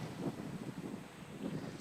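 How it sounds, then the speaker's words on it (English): Low, gusty wind buffets the microphone in soft rumbling pulses, fairly faint and continuous with no voices. "And right now, it's windy."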